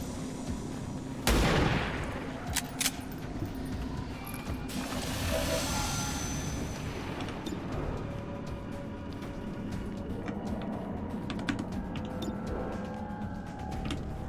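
A loud gunshot in the XCOM 2 video game rings out, followed by a rushing burst and scattered impacts and mechanical clatter, fairly close and loud.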